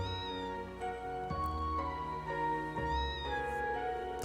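A cat meows twice, clearly and close, in Trails of Cold Steel 3, each a drawn-out rising-falling call over a steady backdrop of game music.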